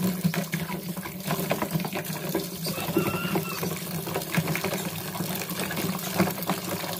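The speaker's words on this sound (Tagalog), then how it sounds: "tapos lalagyan lang ng tubig" Water pours steadily into an Electrolux automatic washing machine with a continuous rushing, splashing hiss, close and fairly loud, with no talking.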